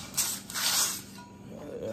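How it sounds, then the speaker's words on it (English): Rust-Oleum paint hisses from a spray can onto a lawnmower wheel in two short close bursts, followed by quieter handling noise. "I think I might end up painting this too. just to give it some protection. We've got some Rust-Oleum paint."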